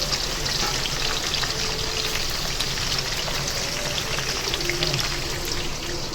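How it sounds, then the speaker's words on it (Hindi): Cauliflower pieces fry gently in a little oil in a home kitchen, producing a dense, continuous crackling sizzle like light rain. It is close and steady, with faint background talk. "अब मैं इसको हल्के हल्के इसको फ्राई कर लूँगी गोभी को"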